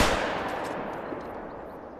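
A single rifle shot fired at a bear in theHunter: Call of the Wild cracks sharply and then rolls off in a long, fading echo across open terrain.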